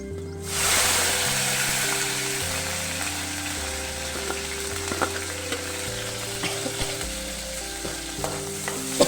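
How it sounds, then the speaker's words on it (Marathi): Garlic and green chilies fry in hot oil in a pan, a constant sizzling hiss with scattered pops and crackles, layered under a steady background tone that shifts pitch in held steps. "मिरची बघून परतूया. मिरची फ्राय झालेली आहे."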